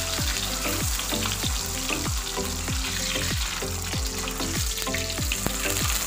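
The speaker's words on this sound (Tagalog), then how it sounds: "Mabilisan lang yung luto ng ham kasi ano to eh, yung naluto ko na, gusto ko lang siya mag-toasted konti." Ham frying in oil in a pan sizzles loudly and steadily, with regular scraping strokes of a spatula repeating about twice a second throughout.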